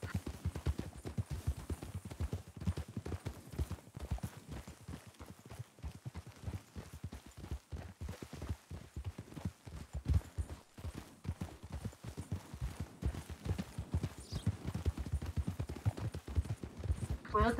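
Horse hooves clip-clopping in a role-play ranch video game, a rapid, steady galloping patter of hoofbeats close up that runs continuously, with a voice talking over it.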